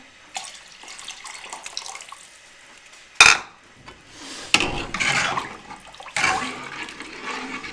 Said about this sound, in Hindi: अब ये पानी इसमें डाल दें।